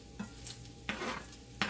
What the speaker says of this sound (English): My bacon is cooked,